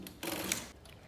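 A Brother knitting machine carriage pulled across the needle bed while knitting a scarf, one short rasping, clattering sweep lasting about half a second, close and fairly quiet, followed by a faint click.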